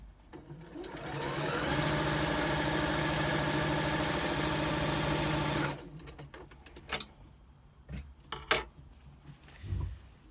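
Sewing machine stitching the seams of a quilt's Log Cabin block, running steadily and loudly for about five seconds before stopping, followed by a few short clicks and handling sounds.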